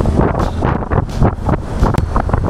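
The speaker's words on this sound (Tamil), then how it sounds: "சில்லுன்னு காற்று வருது." Cool wind rushes steadily over a microphone while riding a motorbike on an empty road under cloudy skies, a loud continuous buffeting roar with uneven gusts and no voices.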